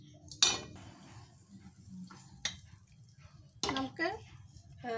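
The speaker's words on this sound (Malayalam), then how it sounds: "അപ്പോൾ നമുക്കിനി ഇത് ബൗളിലേക്ക് മാറ്റാം" Lemon rice being moved into a bowl, with a few sharp spoon-on-pan clinks and scrapes spaced apart amid quiet moments and brief bits of speech.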